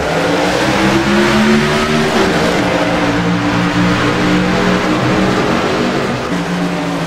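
Race cars roaring as they accelerate on a green flag restart, loud overlapping engines rising and shifting in pitch close by, with no talk.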